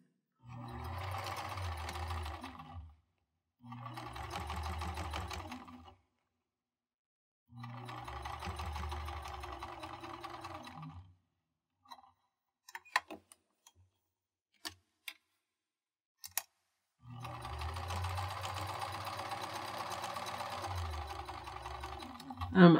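A home sewing machine stitches a fabric surgical-style mask in several steady motor bursts of a few seconds each, with quiet pauses and light ticking clicks between runs.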